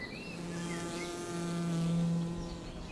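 Wild bees hum in a beech forest with a steady, close, droning buzz whose pitch wavers slightly as they hover. Fainter insect tones and birdsong sit behind it.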